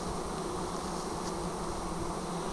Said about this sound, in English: As you can see, the bees around me are actually not from my hive. They're a wild swarm in the area